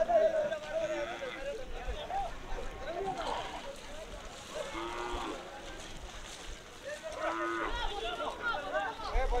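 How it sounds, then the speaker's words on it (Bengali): Cattle coming off a trawler on a riverbank: a few low moos rise over steady outdoor noise and lapping water, with people talking nearby. "এখন আরো দুটি গরু নামানো হচ্ছে"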